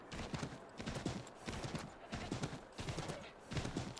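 Horse hooves in Assassin's Creed 3, steady rhythmic clip-clop of a trotting horse at moderate volume, repeating in even groups with no talk.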